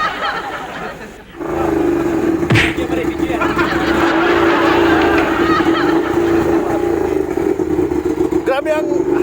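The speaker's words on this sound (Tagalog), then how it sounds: "Grabe ang harumal kang makina." A Harley-Davidson Street 750 motorcycle engine runs close by, a loud sustained roar that builds after a brief dip early on, with a few sharp transient noises and voices talking over it.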